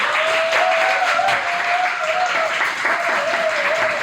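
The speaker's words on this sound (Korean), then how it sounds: "우리 한번 박수" Audience at a human rights network gathering claps warmly and steadily for several seconds, dense and close, with a faint thin ringing tone running beneath.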